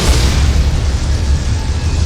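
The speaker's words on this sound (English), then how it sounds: "Detonating charges." Detonating charges erupt in a deep, loud explosion in Star Trek Online, a sustained low rumbling boom lasting about two seconds with no talking.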